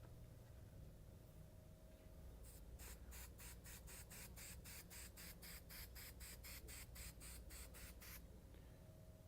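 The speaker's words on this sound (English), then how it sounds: "Now what we have is we have some self-adhesive spray." Self-adhesive spray hissing from an aerosol can onto MDF board in quick, regular bursts, about fifteen short even puffs in a row, over a steady low room hum.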